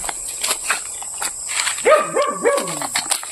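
A dog barks three times in quick succession near a hut in the countryside, the harmonic yelps rising over a steady high insect whine and faint rustling.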